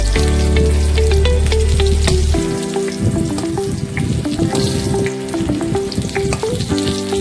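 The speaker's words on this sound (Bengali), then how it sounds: "ভালো করে পটলগুলো ভেজে নেব।" Pointed gourd (potol) with turmeric and salt fries in hot oil, giving a loud, continuous sizzle with stirring scrapes; a low hum sits under the first couple of seconds.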